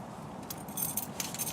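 A bunch of keys carried with a small EDC torch jingles and clinks outdoors at a winter bushcraft camp, bright metallic rattles growing busier partway through over a steady low background.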